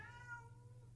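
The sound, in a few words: cat meowing loudly in the background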